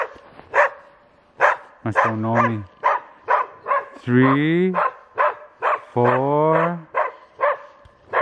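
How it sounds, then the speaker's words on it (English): A dog barks repeatedly at close range, sharp yaps mixed with longer whining howls, while a person speaks briefly. "That one's been barking ever since I got here"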